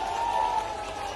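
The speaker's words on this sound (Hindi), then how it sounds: "एक बार जोरदार ताली बजा के स्वागत है" A political rally crowd applauds to welcome Jyotiraditya Scindia, a short burst of dense, steady clapping that fills the space at moderate loudness.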